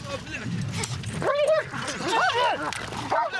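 Dogs whine and bark in quick, high yelps close by during a military obstacle course drill, over a busy background of shuffling and movement.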